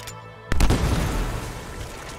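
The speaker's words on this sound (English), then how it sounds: "It's a freaking cannon!" A heavy cannon-like weapon fires in the video game Anthem with a sudden booming blast, followed by a rumbling explosion that rolls on and slowly decays.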